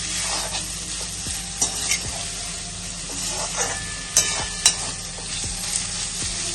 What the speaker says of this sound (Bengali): ভেজিটেবলগুলো অল্প একটু ভাজা ভাজা হয়ে যাবে